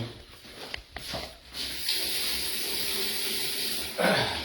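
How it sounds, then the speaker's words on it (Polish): Tap water running steadily into a bathtub, a continuous loud hiss and splash after a few clunks as it starts, surging louder near the end. "Woda leci."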